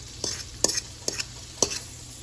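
A pan of food sautés in butter and leftover meatball oil under a soft sizzle, with four quick scraping stirs spaced roughly half a second apart, near and fairly quiet.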